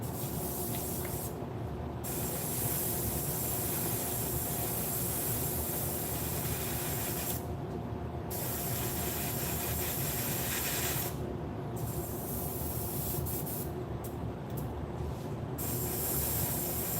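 An airbrush sprays primer onto a miniature with a steady, close, continuous hiss, broken by several short gaps where the airflow pauses, and no one talking.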